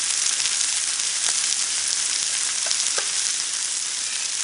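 Cod fillet frying skin-side down on a hot plancha over slightly lowered heat, a steady close broadband sizzle with a few faint pops, continuous and alone throughout.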